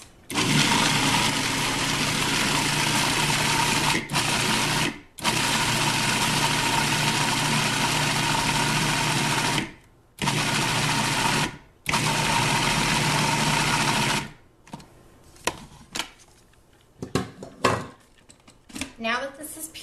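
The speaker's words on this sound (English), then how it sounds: "Then we're going to puree this." A kitchen blender purees ingredients for hitipi, a loud steady whirring roar running in several long bursts with brief pauses between them, then stopping as lighter clatter follows.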